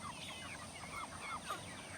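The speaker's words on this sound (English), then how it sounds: "This is probably some of the healthiest Cornish cross chickens that we've ever raised." Cornish cross chickens about eight weeks old, soft clucks and chirps rising faintly over a low steady background, close by and alone without talk.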